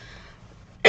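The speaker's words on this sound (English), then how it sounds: "I got this awful cough" A single short, loud cough from a man recovering from a cold, bursting out at the very end after a stretch of quiet room tone.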